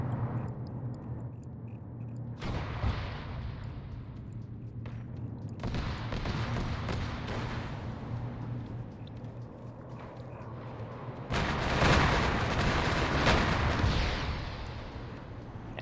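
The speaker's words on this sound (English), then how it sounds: "This was just an HE launcher" Heavy booms and blasts from a high-explosive launcher in the military shooter Arma, several loud detonations with rumbling tails spread across the stretch, the biggest burst near the end, over steady game ambience.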